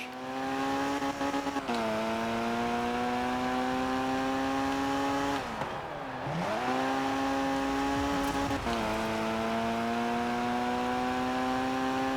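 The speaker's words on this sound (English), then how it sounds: "Let's use the handbrake." Racing car in the K74 Rivals video game holding a high steady engine note, then the pitch dips sharply and recovers during a handbrake turn, a loud continuous game engine with no talking.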